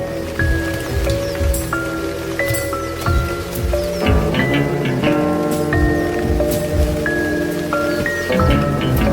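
Steady rain falls in a wild forest habitat, a continuous hiss of drops on surfaces and leaves, with tonal animal or insect calls layered over it throughout.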